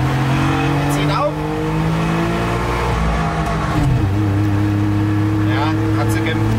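A DKW Schnellaster van's engine drones loudly and steadily while pulling in second gear, its pitch sinking slightly under load, with someone talking over it.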